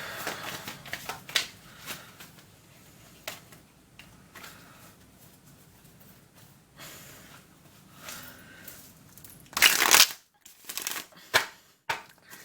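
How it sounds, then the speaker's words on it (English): Tarot cards are shuffled and pulled from the deck, giving soft riffling and flicking close by, broken by a few sharper snaps and a loud burst of shuffling near the end. "I'm going to pull out another 3 cards."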